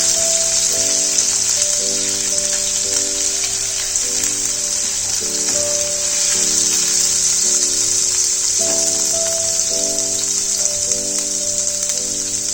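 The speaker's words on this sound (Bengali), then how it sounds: "কাঁচা লঙ্কা বাটাটা দিয়ে তেলটার মধ্যে একটু হালকা সটে করে নেব।" Green chili paste sautéing in hot oil, a steady bright sizzle running throughout beneath looping background music, no talking.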